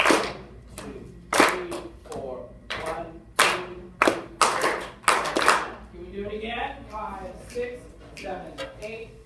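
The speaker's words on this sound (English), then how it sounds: "Let's clap the rhythm of 6 and 7 after D." Students in a school music lesson clap a rhythm together, a series of sharp group claps in uneven groupings, with a teacher's voice talking between and over them in a classroom.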